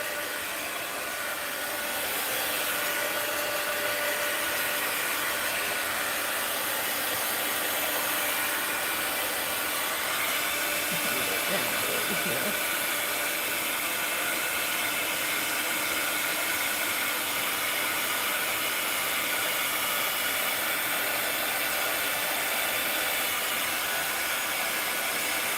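A heat dryer blowing over a mixed-media card, a loud continuous whirring hum that runs steadily throughout with little change, close to the listener.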